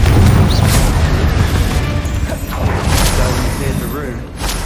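In Hogwarts Legacy, Confringo spell blasts boom and crackle in heavy, continuous loud bursts, with a voice shouting spell names over the chaotic combat noise.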